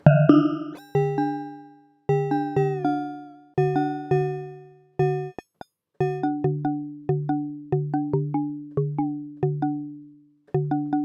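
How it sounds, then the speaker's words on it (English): Bright mallet-like tones from the RipplerX physical modelling synth, struck in a quick melodic run, each note decaying fast with a clean, hollow ring. "now we have kind of a xylophone sound"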